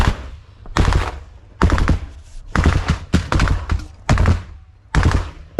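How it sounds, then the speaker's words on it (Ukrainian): A BMP's 30 mm cannon fires in repeated rapid bursts at close range, about six loud, sharp volleys separated by brief pauses, with no voices between them. "Стріляє 30 мм гармата БМП."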